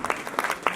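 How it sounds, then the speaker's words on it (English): Audience at a Hindu temple annual day event claps briefly, a short burst of a few separate claps heard fairly close. "let's give Raga and Ria a big round of applause for helping us out the whole day"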